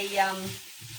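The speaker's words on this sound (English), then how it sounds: "leave those to sort of cook for 3 or 4 minutes to give the onions a chance to cook down and soften" Onions softening in a pan for smoky baked beans, giving a soft, steady sizzle and gentle frying crackle that fades slightly toward the end, with no one talking.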